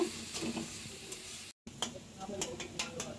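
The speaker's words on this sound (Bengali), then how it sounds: "পেঁয়াজটা আমি আধা ভাজা করে নেব।" Onions half-frying in a pan for a koi fish bhuna, a steady crackling sizzle with stirring scrapes, briefly cut off midway before resuming at moderate level.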